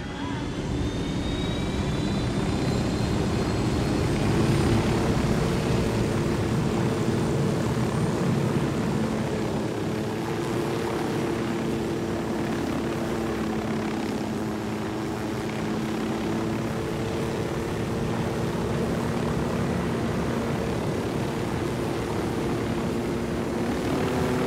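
A propeller aircraft drones steadily in Ghost Recon Wildlands, a continuous engine hum held for the whole stretch with a slight rise and fall in pitch.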